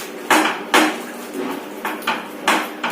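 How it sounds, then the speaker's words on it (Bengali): A lid being set over a frying pan of fish cooking on a banana leaf, producing several hard metallic knocks and clanks in an uneven sequence, close and fairly loud. "আমি ঢাকা দিয়ে দিচ্ছি ওই পিঠটা ভালো করে হোক"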